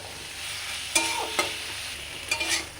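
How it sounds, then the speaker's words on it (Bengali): Ground spices for a light koi fish curry frying in oil in a pan, a close, even hiss marked by a few sharp scrapes of a stirring spoon. "মশলা আমার ভাজা হয়ে গেছে"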